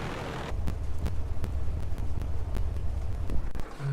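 A light aircraft engine idles on the ground in the Prepar3D flight simulator, a low steady rumble with periodic clicks and rustles, alone at moderate volume.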